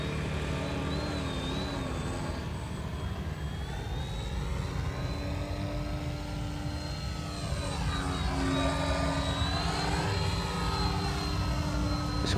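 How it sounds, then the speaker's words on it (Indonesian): An RC Mini Ugly Stick trainer model airplane with a 90 cm wingspan flies overhead, its small engine and slightly bent propeller giving a continuous buzzing drone that rises and falls in pitch as it passes and turns. "Suaranya kayak engine ini kan propellernya agak belen, tapi suaranya bagus."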